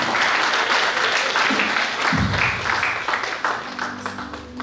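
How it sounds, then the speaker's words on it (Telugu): Audience applause greets a guest at an Esther Prayer Cell third anniversary gathering, a steady wash of many hands clapping throughout, with a brief low voice or hum breaking in partway. "అయ్యగారికి అందరూ చప్పట్లతో ఆహ్వానం పొందుతాం."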